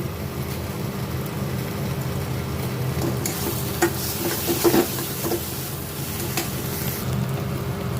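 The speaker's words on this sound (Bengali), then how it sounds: "এবার আমি মাছগুলো দিয়ে দিয়েছি, ভালো করে এবার নাড়ব।" Kachki fish sizzle while being stirred in a frying pan, a steady close hiss with scattered scraping and clinking stir strokes in the middle, and no talking.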